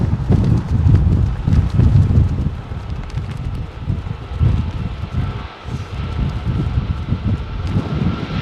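Strong gusty wind at an airport buffets the microphone, a loud rumbling roar that rises and falls continuously with irregular flapping bursts.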